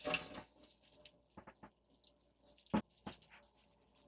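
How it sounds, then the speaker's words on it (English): Cold tap water running over a plastic body panel from an XL250R motorcycle while it is scrubbed with a soapy steel-wool pad, a faint gentle trickle broken by scattered drips and small knocks. "put it under cold water"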